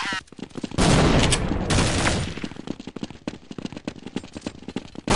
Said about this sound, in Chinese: 突然有枪声